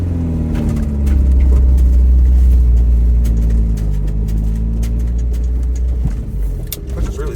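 A 1990 Volvo 245 wagon on a test drive, its engine humming and droning steadily from inside the cabin, with a low continuous rumble that swells slightly and settles, plus faint rattles near the end.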